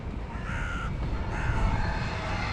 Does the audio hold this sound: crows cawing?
yes